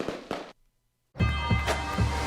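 Fireworks from a fireworks shop advert, a few sharp bursts and crackles, a brief silence, then a louder run of booming explosions in quick succession.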